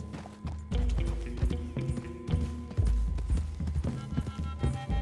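Horse hooves clip-clop in an uneven trotting rhythm in the video game Red Dead Redemption 2, fairly close, with faint background ambience and no talking.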